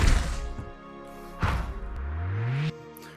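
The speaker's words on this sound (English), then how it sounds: "It's very good having explosion combos in this as well." Explosion combos in the video game Project Demigod: a burst of booming impacts with crashes at the start, another sharp blast near the middle, then a rising whoosh before cutting off.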